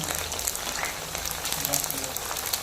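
Chicken pieces fry in a pan for sambar rice, a steady crackling sizzle with bursts of popping spatter, close and continuous, over a low background hum.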